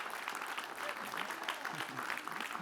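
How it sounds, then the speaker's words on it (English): A commencement audience of graduates and guests applauding, a soft, distant wash of many hands clapping with faint crowd murmur, fairly quiet and steady throughout. "I want you to applaud me for that statement."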